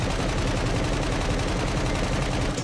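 Rapid automatic rifle fire in the open-world prison survival game SCUM rattles out as one dense, continuous burst, loud and close, with no talk.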